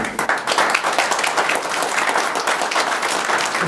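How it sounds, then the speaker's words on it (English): Dense, steady applause from an audience at a Cornwall general meeting during public questions, many hands clapping close and loud without a break for nearly four seconds. "I want to give Mark a big hand of applause for this"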